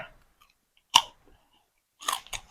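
Crispy fried pork tail being chewed close up, with a sharp crunchy bite near the start and another burst of crunching later, separated by quiet pauses and no talking.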